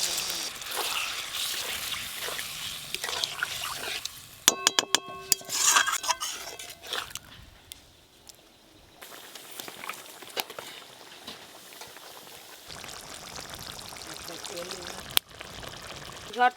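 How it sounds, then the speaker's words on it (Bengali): Water is poured into a pan of Bengali egg curry to make gravy, with a splashing pour and clattering pan sounds among kitchen noise, followed by quieter stirring and a voice talking. "গ্রেভির জন্য জল দিয়ে দেবো।"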